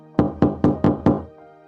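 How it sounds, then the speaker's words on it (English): Five firm, evenly spaced knocks on a wooden door, close and clear, followed by quiet. "Suddenly there is a knock at the door."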